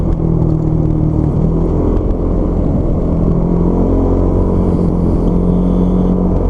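Car driving past on a road, a steady loud engine rumble with no speech, part of traffic that also includes motorcycles.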